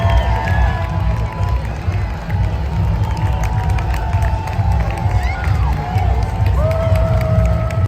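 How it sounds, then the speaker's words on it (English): Spectators along a Somerset carnival procession route cheer and shout for a passing cart whose lights and music have failed, a loud, continuous crowd roar with whoops and children's cries over low generator-like rumble, voices talking amid the din. "the crowd were very supportive and they kept cheering for us."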